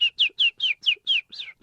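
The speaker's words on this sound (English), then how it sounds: "Are we ready for the birds?" A bird chirps in a rapid, regular series of about eight bright, downward-sweeping notes, clear and close against silence.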